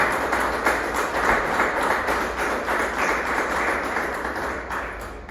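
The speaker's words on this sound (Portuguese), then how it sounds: "Feche a sua Bíblia e aplauda ao Senhor bem forte" A church congregation claps loudly and steadily at a family evening service, a dense, continuous roar of many hands with a faintly rhythmic pulse and no voices on top.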